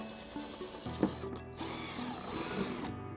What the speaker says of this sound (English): we're gonna drill our first hole using a 3/16 drill bit